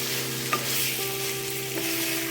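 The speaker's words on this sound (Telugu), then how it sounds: "ఇప్పుడు ఈ పేస్ట్ వేసేసుకుందాం." Drumstick leaf and curry leaf paste frying in a pan for Telugu munagaku mulakkada pulusu, giving a steady close sizzle with a few soft stirring scrapes and no voices.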